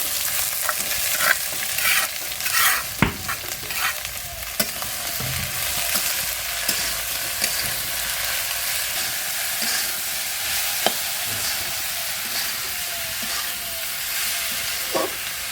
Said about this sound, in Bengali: এখন আমি ঢেঁড়স ভাজি করব